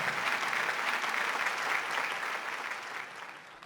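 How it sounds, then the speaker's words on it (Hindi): Loud, steady applause from the audience at an award ceremony during an Urdu mushaira and kavi sammelan in Dubai, sustained throughout and tapering slightly at the end. "जोरदार तालियों के बीच"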